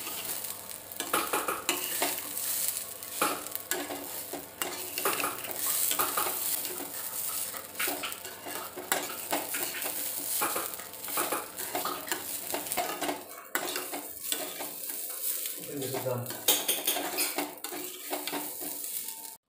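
Rice is frying and being stirred in a pan with cashews and raisins, giving a steady close sizzle broken by repeated scraping and clinking of a utensil against the metal, with no one talking.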